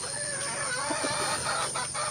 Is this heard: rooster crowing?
yes